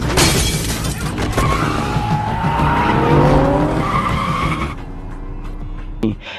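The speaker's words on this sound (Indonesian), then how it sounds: "yang dimana si Kim yang sudah masuk mobil pun langsung tancap gas guna menghindari kejaran" A car speeds off from a confrontation with thugs, tires skidding and squealing loudly under a revving engine for several seconds before cutting off, with a brief crash-like thump near the end.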